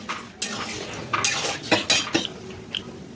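Boiled dal is tipped into a pan while metal utensils clatter, giving a handful of close, sharp clinks and scrapes spread over a few seconds with no talking.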